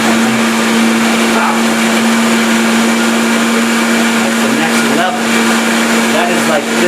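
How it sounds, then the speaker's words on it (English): A Vitamix blender runs steadily at low speed, whirring salad dressing with a constant motor hum and a broad churning wash that stays loud and even throughout. "I'm going to start out real slow with the Vitamix here."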